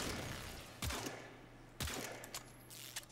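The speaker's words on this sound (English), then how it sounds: "That was 8 shots." Two sharp gunshots from a weapon in the game Warframe, fired shot by shot at a heavy enemy target, spaced about a second apart over a steady hum.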